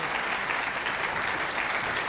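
An audience at an academic lecture breaks into dense, sustained applause welcoming a speaker, many hands clapping steadily and close throughout.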